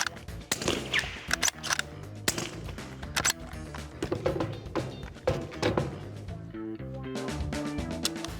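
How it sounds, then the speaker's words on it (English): Rifle shots fired at a target crack sharply and loudly in a rapid irregular series, one after another, close and dominant. "So I had to send a round out and keep on going."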